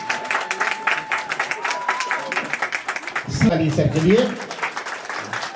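Audience clapping for Phoolchand Bodh at his farewell ceremony runs as a rhythmic patter under someone speaking, with a brief louder burst of mixed noise near the end.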